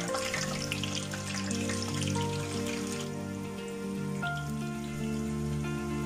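Onion and garlic frying in plenty of oil in a pan, a steady close sizzle and crackle that runs continuously throughout with soft background music and no talking.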